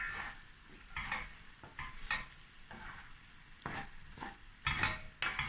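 Eggs cooking in an AMC pot for a spicy Vienna and egg smoortjie give a steady, soft sizzle with light stirring scrapes, with a few louder clatters near the end.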